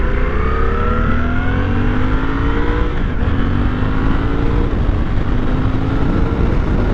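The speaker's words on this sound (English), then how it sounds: "So it does have a bi-directional quick shift, which means you can quick shift up and quick shift down" Suzuki 800DE motorcycle accelerating hard with quick-shifted gear changes, the engine note climbing in repeated rising sweeps with abrupt drops between shifts, loud and close with wind noise and no speech.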